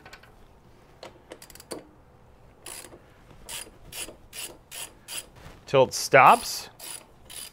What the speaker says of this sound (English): Take your T40 Torx bit. And that thing should thread in there relatively easily.